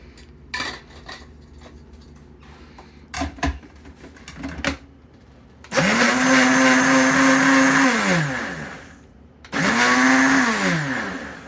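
After some clinking and handling, a blender holding soapy hot water whirs in two loud bursts, the first several seconds long and the second shorter, with no voices.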